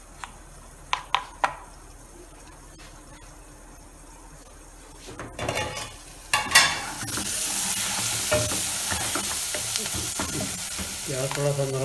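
Onions frying in a pan over medium heat for egg curry: a few sharp clacks and utensil knocks, then a loud steady sizzle swells up with stirring scrapes and rustles continuing to the end.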